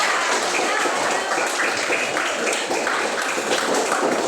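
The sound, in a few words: applause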